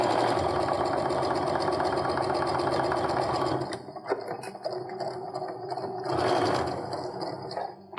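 Sewing machine stitching quilt pieces together with a quarter-inch seam, running in a fast steady whir that pauses briefly, with faint handling noises, then resumes for a short burst.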